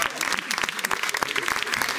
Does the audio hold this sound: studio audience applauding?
yes